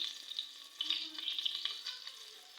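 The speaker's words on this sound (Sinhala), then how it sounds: "මේ යාළුවනේ තෙල් ටික රත් වීගෙන එන ගමන් තියෙන්නේ" Cooking oil heats in a pan, giving a steady, close hiss of fine crackling sizzle with small popping bursts throughout and no talk.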